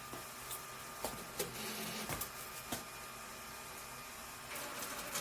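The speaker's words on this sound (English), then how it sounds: "the printer will begin to turn on" An Epson F2100 printer powering on, with a steady mechanical whir broken by several clicks and clunks of moving parts over a few seconds, quiet and close.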